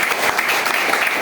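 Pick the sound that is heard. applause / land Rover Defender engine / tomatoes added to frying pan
applause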